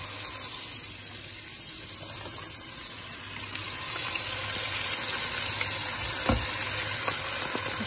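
Yogurt poured into hot frying masala sizzles steadily, a dense crackling hiss that grows slightly louder midway and carries on alone without voices.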